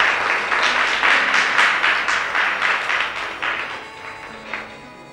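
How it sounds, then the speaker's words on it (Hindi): A stage show audience claps enthusiastically to welcome a magician, a dense burst of applause that swells and then gradually thins out over several seconds. "तो दोस्तों प्लीज जोरदार तालियों से उनका स्वागत करना।"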